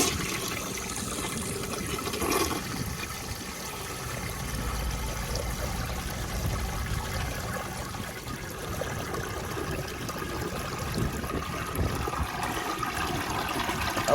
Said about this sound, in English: I love that flush.